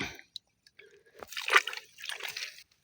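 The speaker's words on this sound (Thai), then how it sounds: "น้ำไหลครับนี่" Water trickles and drips in a small forest stream, with soft sloshing and splashing bursts that rise briefly in the middle, close and fairly quiet amid pauses of near silence.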